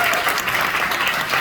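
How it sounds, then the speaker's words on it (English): A brief burst of dense, even audience applause at a community speaking event in New York, steady and fairly loud with no voices over it. "Round of applause."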